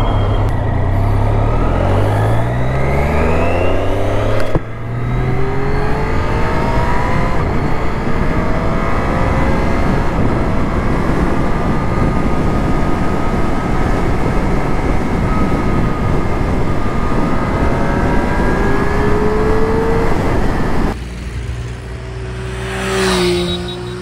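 Triumph Daytona 675R sport motorcycle on the move, engine note holding a loud steady drone with shifting pitch sweeps as it revs and changes gear, then dropping away near the end into quieter wind and road noise.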